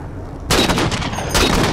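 Sniper fire in the Halo 4 shooter game: a sudden loud crack kicks in with a roaring tail, followed by a second burst a moment later, with no talk.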